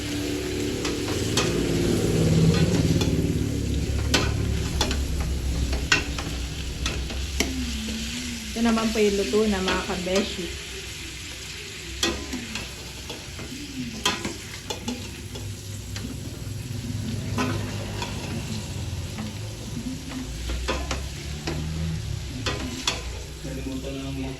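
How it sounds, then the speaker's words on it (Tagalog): Garlic, onion and ginger sauté in a hot pan for a lechon leg dish, sizzling continuously while a utensil stirs and scrapes with frequent clicks and knocks. "Atin lang pong igigisa dito sa bawang sibuyas at luya."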